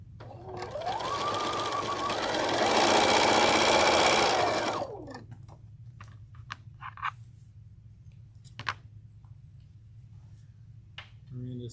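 A sewing machine pieces quilt blocks, running in a loud, steady burst of a few seconds that speeds up and then stops. Quiet clicks and handling noises follow.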